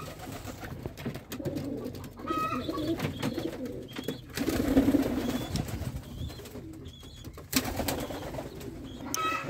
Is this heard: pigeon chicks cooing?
yes